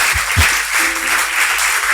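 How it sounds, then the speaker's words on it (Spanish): A church congregation claps for the Lord during a service, a dense, steady roll of applause filling the room, with a couple of low thumps near the start. "Así que dale un fuerte aplauso al Señor"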